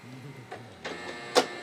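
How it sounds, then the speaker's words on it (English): A home printer runs in short mechanical bursts, with a few brief whirs and clicks building to one louder sharp burst near the end, close by and on its own with no talk. "That was my printer."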